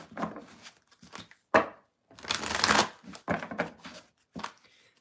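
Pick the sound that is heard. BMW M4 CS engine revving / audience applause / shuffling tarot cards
shuffling tarot cards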